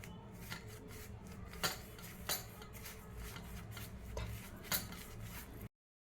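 Masala is mixed with ginger garlic paste and oil for chicken popti, giving continuous close scraping and rubbing of a utensil in a metal dish with a few sharper clinks.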